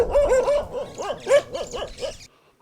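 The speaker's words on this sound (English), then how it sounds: "the home of Jen Musioka, we are welcomed by the barking of these 3 dogs and sending an alert to the homeowner" Three dogs barking at a rural homestead in Congo, a rapid run of loud, close, overlapping barks and yelps that stops abruptly.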